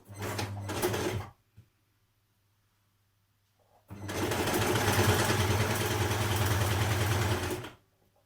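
A sewing machine stitching a dress seam: a short burst of rapid whirring, a pause of near silence, then a longer steady run of stitching that stops abruptly.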